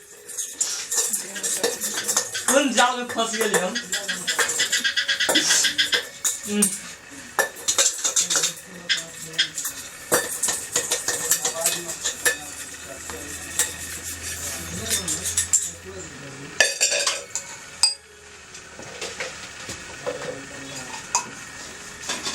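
Dishes and pots being scrubbed and washed, with frequent clatters of metal utensils and scraping knocks in quick irregular bursts, close and fairly loud, while a person talks over them.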